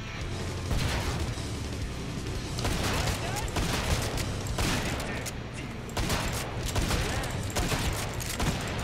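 Dense bursts of gunfire and booming grenade blasts from the video game Killing Floor 2 crackle continuously, loud and layered, with brief dips between volleys.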